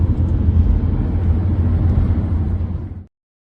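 Citroen Berlingo XTR 2010 car accelerating up to speed, a steady loud low engine and road rumble that holds for about three seconds and then cuts off abruptly.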